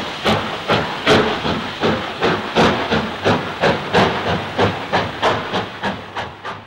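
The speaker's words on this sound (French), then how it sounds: "Pour qui aime la vapeur, ces coups d'échappement reflètent la puissance de la montagne." The 241 P 17, a 1950 Schneider-built Mountain-type steam locomotive from Le Creusot, works hard with a rapid, even train of loud exhaust beats over continuous hissing steam, heard near and without talk.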